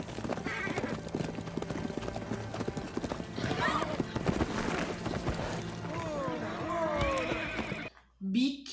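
A horse clip-clops across ground in a House of the Dragon hunting scene, hooves steady and fairly close under a swelling orchestral score, with a whinny and voices talking over it before a sudden quiet at the end.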